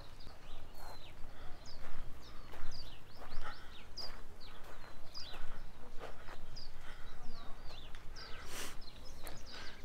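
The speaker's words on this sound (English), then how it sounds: "I hear birds." Birds chirp and call repeatedly in short bursts over a steady outdoor background at an RV park botanical garden in Tucson, Arizona, with a few brighter calls standing out close by.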